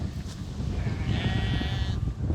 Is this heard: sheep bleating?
yes